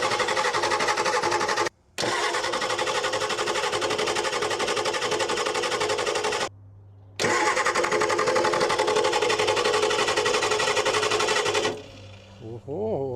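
Ford IDI diesel engine with a rebuilt Stanadyne DB2 injection pump cranking over, a loud rapid chugging starter rhythm in long bursts broken by two short pauses, then winding down as a voice speaks at the end.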